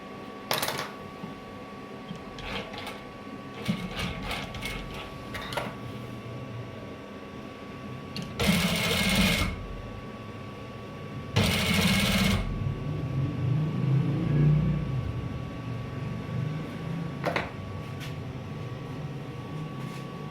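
Two short runs of a sewing machine doing the final stitching on a pleated sleeve, each about a second long and fairly loud against quiet handling noise and faint background clatter.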